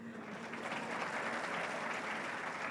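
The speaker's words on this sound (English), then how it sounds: "And the Vice Chancellor, you deserve to be clapped for, right?" A crowd applauds the Vice Chancellor at a public lecture, with steady, dense clapping sustained throughout at moderate distance.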